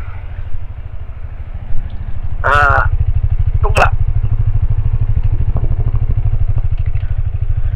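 A motorcycle on a solo touring ride climbs an uphill road, its engine droning loud and steady throughout, with a couple of brief high squeals or horn-like tones in the middle.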